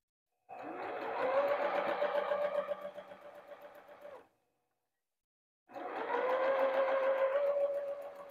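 Sewing machine stitching 5-inch quilt squares to sashing, running in two steady bursts of several seconds each with a short pause between, close and clear with no talking.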